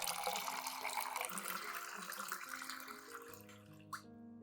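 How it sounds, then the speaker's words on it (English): Water pours steadily into a container for a few seconds, diluting a plant solution, then stops, followed by a single drip-like plink and a soft background tone. "Next, add 500 milliliters of clean water to dilute the solution."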